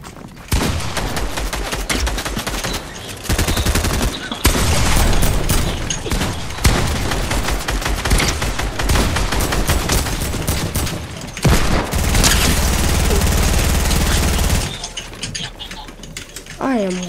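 Loud, sustained automatic gunfire in a multiplayer shooter, with long continuous bursts broken by a few brief pauses and heavy booming impacts, and voices talking over the shooting.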